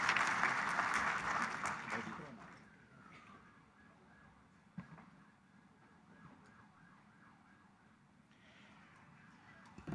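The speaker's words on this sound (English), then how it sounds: "Je vous demande d'accueillir et d'applaudir Sir Abdelhakim El-Waer" Audience applause welcoming a speaker at an aquaculture conference, loud for the first couple of seconds and then quickly fading into a quiet hall with faint room noise.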